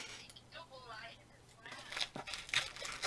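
Scissors snip and tear through a parcel wrapped in thick layers of sellotape, giving crinkling, ripping bursts that grow louder toward the end, with a voice speaking in the background.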